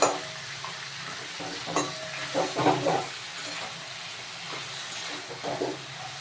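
Fish head frying in a pan while being broken up: continuous oily sizzle with repeated scraping and clattering of a utensil against the pan, busiest in the middle, without speech.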